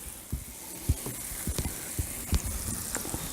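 Butter and potato bread sizzle on a Blackstone griddle, a soft continuous fry hiss broken by small spatters and spatula taps.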